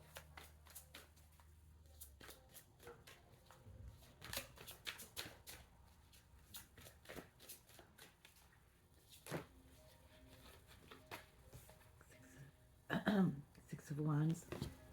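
Tarot cards shuffled by hand in a quiet room, a string of quick riffling slaps and soft flutters, with a throat clear and brief murmured speech near the end.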